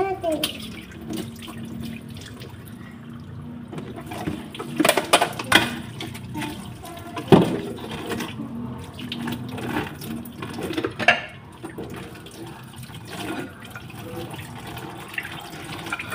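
Tap water runs steadily while dishes are washed at home, with clatters and splashes rising and falling over about sixteen seconds, close and moderately loud.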